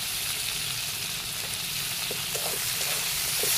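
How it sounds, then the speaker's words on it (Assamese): Cut tomatoes frying in hot oil in a pan, a steady close sizzle with soft crackles and occasional stirring clicks throughout. "এতিয়া এইখিনি অলপ টাইম এনেকৈ আকৌ ভাজি ল'ম।"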